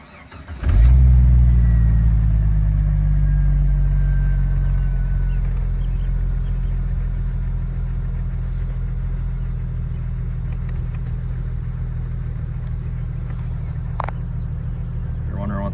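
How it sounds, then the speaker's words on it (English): A warm Jeep Wrangler YJ engine cranks and catches, then settles into a loud, steady idle with a deep rumble that holds for the rest of the clip. "let's fire it up and give it a listen"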